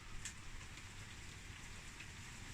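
Heavy rain pours down steadily at a brewery, a dense continuous hiss of falling water with a low rumble beneath, fairly quiet and unbroken throughout, with no voices.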